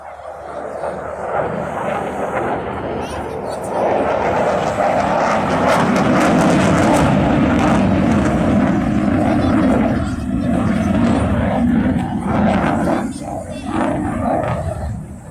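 A Eurofighter Typhoon jet performs at the Torbay airshow, its engine building to a loud, sustained roar as it passes and then easing off, with a commentator's voice faintly underneath.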